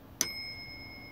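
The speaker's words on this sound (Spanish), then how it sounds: "Entonces vemos que tiene la campanilla." A small bell on an antique electric bell device, nearly two hundred years old, gives a single sharp ring that decays into a long, clear, fading tone.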